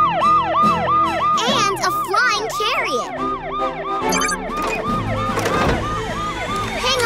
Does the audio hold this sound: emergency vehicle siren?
yes